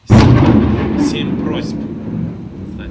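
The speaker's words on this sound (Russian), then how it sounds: "это гром на улице." Thunder rumbling outside: a loud, sustained low roar that swells at the start and then slowly fades, heard under a person speaking.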